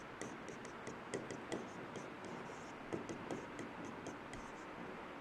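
Chalk or marker scratches and taps across a board in short, irregular strokes, soft and fairly distant over a steady room hiss, during a civil engineering lecture on bending stress.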